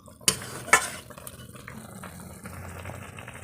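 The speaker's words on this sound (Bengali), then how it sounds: "এবার মাছগুলোকে দিয়ে দেব। মাছগুলোকে দিয়ে ফুটিয়ে নেব।" Hilsa fish pieces dropped into a simmering spicy sauce: two sharp clatters near the start, followed by a soft, continuous sizzle and bubbling that fades to a low simmer.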